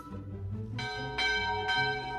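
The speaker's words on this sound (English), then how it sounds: "he hears the three bells from the crow's nest" Three bell strikes from the crow's nest of the RMS Titanic, the iceberg warning, ring out clearly one after another. Each strike is bright and metallic with a long ringing tail, and a low rumble sits underneath.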